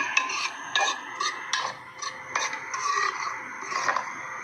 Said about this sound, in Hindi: तकरीबन इतना हम इसको भूनेंगे कि इसकी जो कच्चापन है वो ख़त्म हो जाए